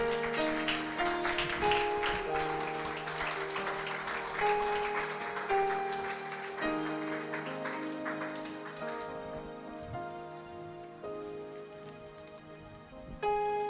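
Church congregation applauding, with scattered clapping over sustained organ or keyboard chords that gradually fade, with faint voices in the background.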